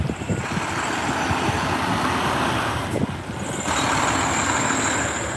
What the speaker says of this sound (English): Got a truck going in front of us right now.